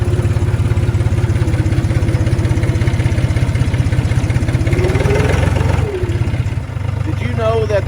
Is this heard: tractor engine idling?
yes